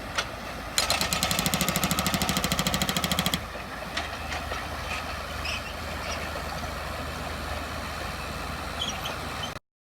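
A pneumatic hammer on a mini excavator pounds rock rapidly and loudly for a few seconds, then stops, leaving a steady engine rumble with scattered knocks and clatter.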